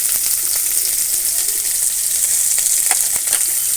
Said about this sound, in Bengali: ফোড়নের জন্য দিয়ে দেবো অল্প একটু পাঁচ ফোড়ন